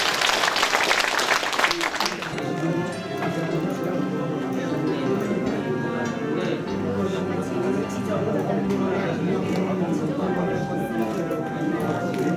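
A seated audience at a Yangpyeong county town-hall forum breaks into loud, dense applause of encouragement for the discussion facilitators, clapping fills the room at first, then thins into murmuring chatter and background music.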